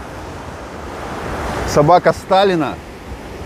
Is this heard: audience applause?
no